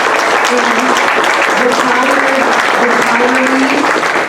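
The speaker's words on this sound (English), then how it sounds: "So now you can clap uproariously for this pastor." Loud, sustained applause from a crowd at a church delegate session honoring a pastor, steady and dense throughout, with a few voices calling out underneath.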